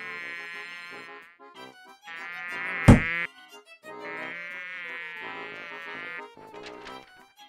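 A mosquito in an animated children's story whines with a steady, thin, high-pitched buzz in long bursts. A sharp swatting slap cuts in midway, then the buzzing returns.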